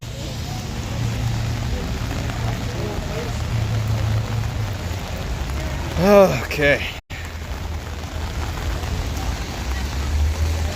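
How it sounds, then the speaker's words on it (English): Steady rain falling outdoors at a street gathering in Dallas, Texas, a continuous hiss with a passing car and a brief spoken word partway through. "It's starting to rain quite a bit now."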